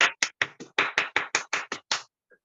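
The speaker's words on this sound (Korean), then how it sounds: "많은 박수 부탁합니다." Applause at a book reading event comes as about a dozen sharp, separate hand claps in quick irregular succession, close and fairly loud, ending abruptly in near silence.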